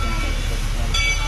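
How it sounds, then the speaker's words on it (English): A train rumbles past close by in Pennsylvania, a loud continuous low roar with a hissing edge that brightens near the end, while people talk over it. "this crazy train that is polluting Earth right here"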